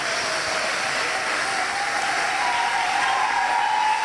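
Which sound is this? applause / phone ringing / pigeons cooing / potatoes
applause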